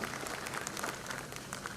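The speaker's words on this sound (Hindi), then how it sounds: "जोरदार ताली इनके लिए भी आप बजा सकते हो" An audience at a Patrika KeyNote event in Bhopal claps steadily, a dense even wash of applause that lasts the whole clip with no voices over it.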